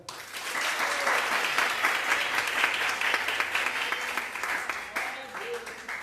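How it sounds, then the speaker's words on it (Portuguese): A church congregation applauds during an evening prophetic service, sustained clapping that swells in and holds, with voices calling out over it. "Você pode aplaudir o Senhor?"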